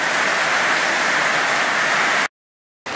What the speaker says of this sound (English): But it's nice, we need the rain.